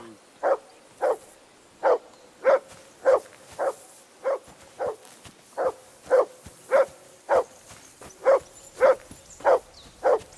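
A dog barks repeatedly in Kingdom Come: Deliverance II, about sixteen evenly spaced, moderately loud barks in a steady rhythm with no other sound.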